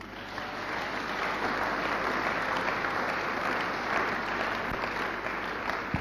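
A church congregation applauds in a steady, dense wash of clapping that carries on evenly for several seconds with no voices.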